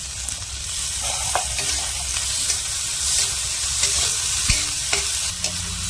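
Onion, chilli and tomato fry with added garlic and ginger in a pan, a steady close sizzle broken by occasional clinks and scrapes of a spoon stirring through the mixture.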